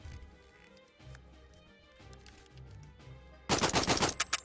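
A weapon is emptied in the VR shooting game Out of Ammo: after a quiet stretch, a loud rapid burst of automatic fire erupts and rattles to the end.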